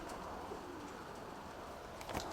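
Pigeons cooing outdoors during a long flight session on an overcast day, a soft steady murmur of bird calls with faint wing flutter and a brief louder burst near the end.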